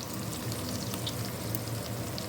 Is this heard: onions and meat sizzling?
yes